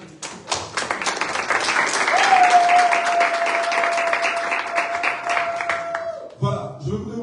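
A church congregation claps and cheers together in a sustained wave of dense applause for several seconds, a long sung or whistled note riding over it, before it drops off and a voice begins talking.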